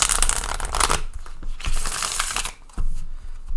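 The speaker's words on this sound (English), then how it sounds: "Give these a shuffle too." Tarot cards shuffled by hand at close range, a dense riffling burst followed by several shorter shuffles and soft slaps, with no talking.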